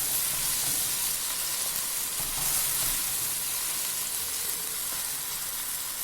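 Chopped garlic-ginger paste frying in a pan for potato and peas curry, a steady bright sizzle and hiss that continues evenly without a break and without talk.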